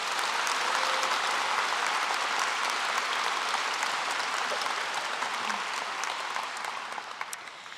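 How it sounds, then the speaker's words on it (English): A large high school graduation audience applauds school board members with steady, dense clapping that holds loud and even before easing off slightly at the end. "Please give a round of applause to all of our great school board members"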